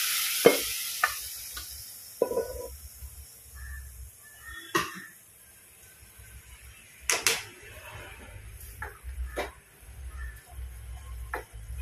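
Hot tempering of fried chillies poured into a pan for a moringa-leaf dish, giving brief sizzles and stirring clatters with several sharp clicks, scattered coughs and soft background noise between bursts.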